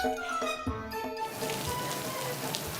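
Steady rain pours down in a drama scene where a schoolgirl waits to be picked up, a dense, even hiss that swells in after a brief musical lead-in and continues without pause.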